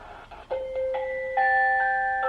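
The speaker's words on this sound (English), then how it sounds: "Here you got like wind and chimes." Soothing wind-and-chimes track from a Motorola MBP36XL portable video baby monitor: a soft breathy wash under it, then clear bell-like chime tones strike one after another and ring on, layering into a sustained shimmering chord.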